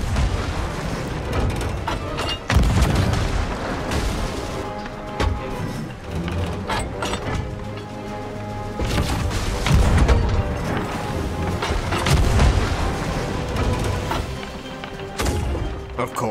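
Ship cannons fire in the video game Sea of Thieves, a dense run of repeated booms and heavy thuds over a busy, continuous game soundscape, loud throughout with no talking.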